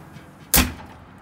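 A single solid thud as the heavy metal door of a smoker cooker swings shut, sharp and close, with a brief ringing decay against a quiet background.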